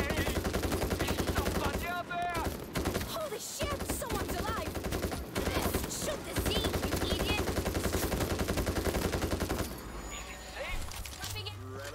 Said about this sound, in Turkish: Burada çatışma var, burada çatışma var.